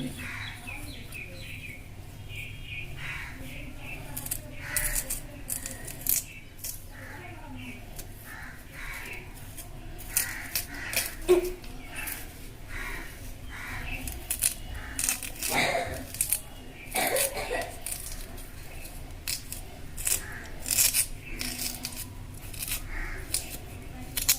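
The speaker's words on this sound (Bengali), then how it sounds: "এবার এটিকে আমরা বটি দিয়ে সুন্দরভাবে রিংয়ের মতন করে আস্তে আস্তে সাবধানে এরভাবে ঘুরিয়ে ঘুরিয়ে" A potato is cut into a spiral with a boti blade, giving soft, irregular scraping and slicing noises, quiet and close, that come in short bursts over a faint background.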